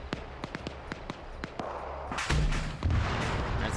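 Tank cannon fire in an Arma 3 WW2-style battle: a series of sharp distant gunshot-like bangs, then a heavier rumbling blast with low booming tail, loud against a noisy combat background.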